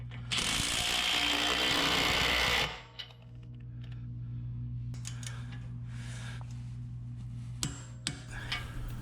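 Ratchet clicking rapidly while tightening nuts on a Teraflex Falcon Nexus EF 2.2 steering stabilizer bracket, a loud close burst of dense pawl clicks, then quieter scattered clicks and taps over a low hum.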